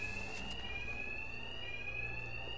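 A building alarm in the Batman Arkham Knight video game blares as one steady, piercing electronic tone that holds at full strength with no breaks.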